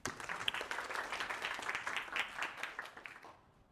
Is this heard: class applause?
yes